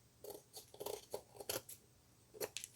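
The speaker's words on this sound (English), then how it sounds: "But I don't have none, so I'm using these scissors." Small scissors cut through paper for a craft box, giving a quiet, close series of crisp snips in an uneven rhythm.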